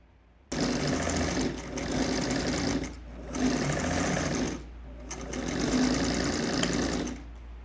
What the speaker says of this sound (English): I'm going to place this from the center down, close it up, and I'm going to sew here